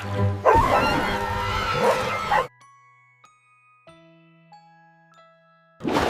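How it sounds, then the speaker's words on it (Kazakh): A dog barks loudly and roughly for a couple of seconds up close in a Kazakh cartoon, then soft chiming tones ring out, and another loud burst begins. "Кенет жағаға бір қара аң жүгіріп шығып, оған қатты үріп бастады."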